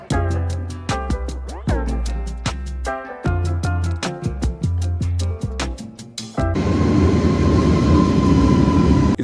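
An Italo high-speed train at Napoli station produces rhythmic, pitched clanks and thumps that give way to a loud, steady rushing roar.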